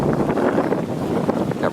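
Wind gusts buffet a sailboat under sail in winds around 7 to 8 knots gusting to 15, a rough broadband rushing that roars against the microphone at close range without pause.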